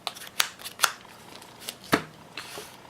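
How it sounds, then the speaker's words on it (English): Playing cards for a tabletop card game being shuffled up close, a series of sharp riffling snaps and flicks at irregular intervals over quiet background. "Okay, shuffle your decks."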